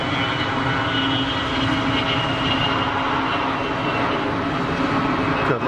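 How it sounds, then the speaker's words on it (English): A jet, likely a Gulfstream business aircraft, takes off and climbs steeply at Geneva Airport, its engine roar a steady, broad, loud drone that holds evenly throughout. "Good looking aircraft all the same."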